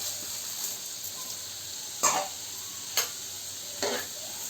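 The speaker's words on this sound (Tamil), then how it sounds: "வெங்காயம் நல்லா பொன்னிறமாக வதங்கி வரட்டும்." Onions sautéing in a pan for paneer butter masala, a steady soft sizzle broken by three sharp scrapes of a spoon stirring them, no voices.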